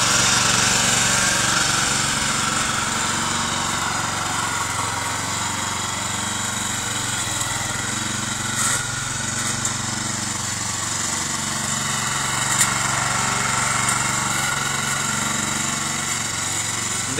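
A homemade lawn mower machine cuts tall grass on uneven ground, its small engine droning loud and steady throughout with slight variations as it works through the growth.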